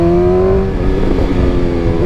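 BMW S 1000 XR motorcycle in dynamic pro mode accelerating on the road, a loud close engine note with a steady rising whine that shifts midway as the rider changes gear, continuous throughout with no talking.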